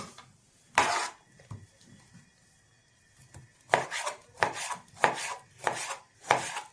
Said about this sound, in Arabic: نجيب طماطم كده نقطعها مع بعض